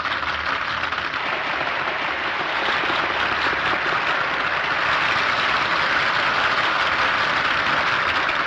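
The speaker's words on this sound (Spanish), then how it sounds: "Termina la ópera y el público apenas si aplaude" Thin, sparse applause from an opera audience in a theatre, scattered hand claps blending into a steady wash of noise that holds at the same moderate level throughout with no voices.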